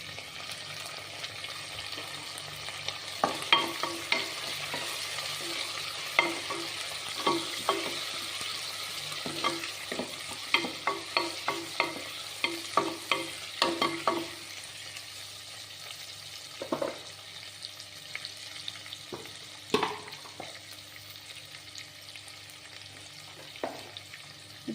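Onions and tomatoes sizzle steadily in a hot pan while a utensil scrapes and taps against it in quick bursts of stirring.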